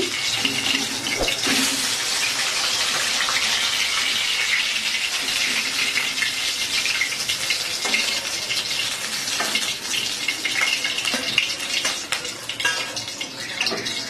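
Pomfret fish sizzling in hot oil in a pan, a steady broadband crackle and hiss throughout with occasional louder spits and clinks of turning, close and continuous with no talking.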